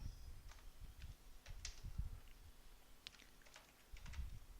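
Quiet clicking of keys on a computer keyboard as a command is typed, a faint irregular patter of taps over a few seconds.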